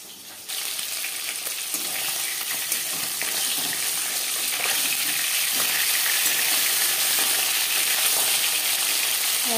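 Pieces of katla fish fry in a hot pan with a loud, continuous sizzle that starts abruptly and holds steady, with occasional crackles and spatters.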